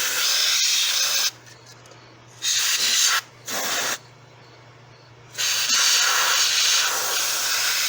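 An aerosol can of non-conductive cleaner sprays in loud close hissing bursts, a long blast, two short ones, then another long spray, inside the engine bay of a 2000 Blazer with a 4.3 engine.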